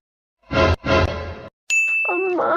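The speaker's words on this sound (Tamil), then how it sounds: "இந்த டைம் எதுக்கு பிரியா மெசேஜ் பண்றா?" A phone message notification chime rings out as a single clear ding, bright and close, following two short bursts of other sound in a quiet indoor home scene.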